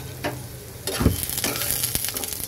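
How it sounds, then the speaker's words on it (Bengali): Onion frying in oil with black cumin and green chillies, a soft sizzle under a few scraping stirs of a spoon in the pan, close and moderate in level, without speech. "এবার একটু নেড়ে দেব। পেঁয়াজটাকে এখন 2-3 মিনিট ভেজে নেব।"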